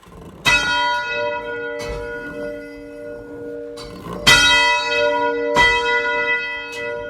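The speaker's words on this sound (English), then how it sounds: "that's why I love hearing our bell ring" The Gilmanton Community Church bell rings out in slow, resonant strikes, four clear tolls with long ringing decays between them, fairly close and loud.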